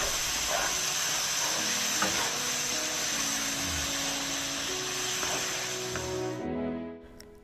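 Chopped tomato cooking in a pan for a creamy cheesy pasta sauce, giving a soft, continuous sizzle and hiss with faint stirring, steady and close, tapering off near the end.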